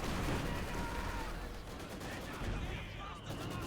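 Battle in Company of Heroes 2: a Brumbar assault gun's main gun fires into a dense, continuous roar of game combat, with blasts and gunfire layered throughout at steady loudness.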